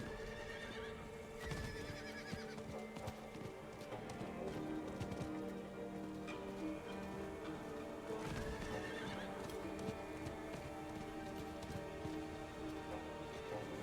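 A horse gallops in the video game Diablo 4, its clip-clop hoofbeats running steadily throughout along with whinnies over a wash of rain and game ambience, at moderate level with no talking.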